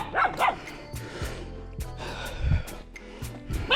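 Dogs bark on a steep hill in Jamaica during an early-morning hike, sharp yaps and woofs at moderate distance alongside snorting and heavy breathing.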